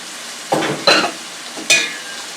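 Vegetables sizzle and fry in a pan while vegetable broth rice is prepared, with three short bursts of stirring and sizzle rising over a steady low frying hiss; no one speaks.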